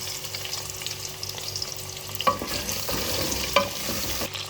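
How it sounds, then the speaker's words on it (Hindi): Cut potatoes fry in hot oil with a steady, close sizzle, interrupted by a couple of sharper pops and stirring scrapes partway through. "सबसे पहले हम अपने आलू को फ्राई कर लेते हैं।"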